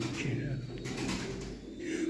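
White pigeons coo in a loft, a low continuous burbling mixed with steady background noise, moderately close and without talk.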